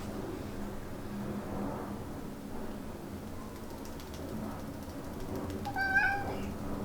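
A pet cat meows indoors: a few soft, faint calls early on, then a clearer, louder meow near the end over a steady low background hum, with no talking.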